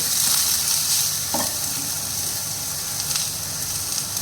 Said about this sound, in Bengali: পেঁয়াজ। একটু নেড়ে চেড়ে